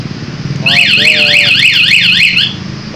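A loud motorcycle security alarm from an E-lock unit: a few quick chirps, then a rapid warbling siren that rises and falls repeatedly, close by, before cutting off.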